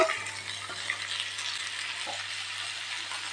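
Chopped banana stem sizzles steadily in a hot pan, with a few soft scraping stirs over the constant hiss.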